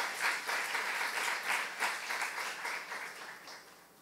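A church youth congregation bursts into dense, steady applause filling the room, holding loud and even before tapering slightly at the close.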